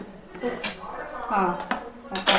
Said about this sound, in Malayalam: അപ്പോൾ അതും കൂടെ ഒഴിച്ചിട്ട് നമുക്ക് നന്നായിട്ട് അങ്ങോട്ട് മിക്സ് ചെയ്യാം.